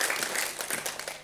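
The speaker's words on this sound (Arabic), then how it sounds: "تصفيق عليهم، تصفيق عليهم" A crowd at an Algerian event for people with disabilities applauds, with brisk scattered hand claps that fade slightly toward the end.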